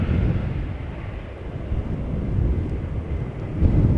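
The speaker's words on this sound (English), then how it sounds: "While I'm turning the camera in this direction, it seems to be picking up a little bit, the wind." Wind buffets a camera microphone at an airport plane-spotting spot, a loud low rumbling roar that surges and fades unevenly for a few seconds, with no voices.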